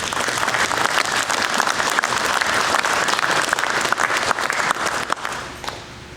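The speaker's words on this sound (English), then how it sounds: "So I'd like to have you give them a round of applause." A room full of people breaks into sustained applause, a dense wash of clapping that holds steady for several seconds before thinning out and fading near the end.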